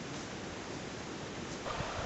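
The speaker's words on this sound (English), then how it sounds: "Nice spot by the river." River beside the lower falls in Glen Nevis: a steady, broad rushing wash of water, close and constant, with no voices.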